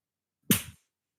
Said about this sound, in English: Just a single clap.